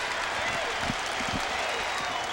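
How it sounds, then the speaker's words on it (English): A basketball arena crowd at a UConn women's game against Georgetown at the Civic Center, on its feet cheering and applauding, a dense steady roar filling the clip under a commentator's voice. "the Civic Center crowd is on its feet for the last 30 seconds of this one"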